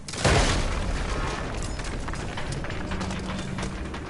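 An incoming mortar shell explodes in Call of Duty WWII, with a sudden loud, close boom followed by a long rumbling roar and debris that slowly fades under battlefield noise.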